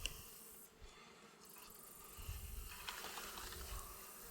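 Honey bees buzzing around an opened beehive during a honey harvest, a faint, continuous low drone with scattered closer passes and light handling noise, no talking.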